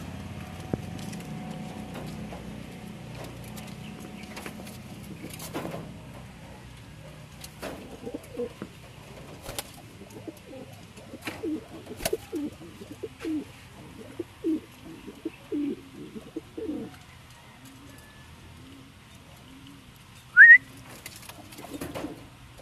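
Domestic pigeons coo in soft, low, repeated rolling calls that come in short bursts close by, against a quiet background with a few faint knocks and one sharp brief noise near the end.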